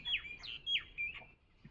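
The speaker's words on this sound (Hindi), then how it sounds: "चिड़ियों की आवाज" Birds chirp in a series of quick, high, sweeping tweets repeating every half second or so, faint and slightly distant, with no voices over them.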